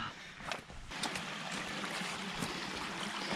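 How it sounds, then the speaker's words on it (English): Water trickling and rushing at a stream crossing on a hiking trail along the Virginia Triple Crown Loop, a steady broadband wash with a few brief splashy bursts, fairly close and continuous throughout, with no voices. "Water crossing."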